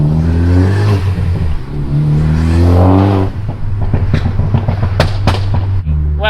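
A remapped Ford Focus ST rumbles at idle and revs, then its exhaust fires a loud, rapid series of sharp pops and bangs, close by and with no talking.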